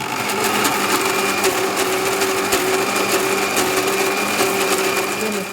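A mixer grinder runs continuously, grinding sweet corn into paste, with a steady high whine and rattling hum at a constant, fairly loud level.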